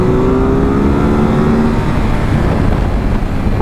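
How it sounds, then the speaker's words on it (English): 2023 Ducati SuperSport 950S motorcycle accelerating hard in sport mode: a loud, continuous engine roar with a rising tone, heard close up and dominating the wind noise, with no voices. "I'm barely touching the throttle and it's climbing very quick, very easy."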